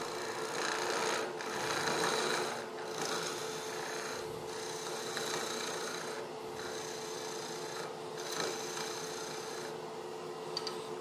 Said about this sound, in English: Some planing cuts with the skew.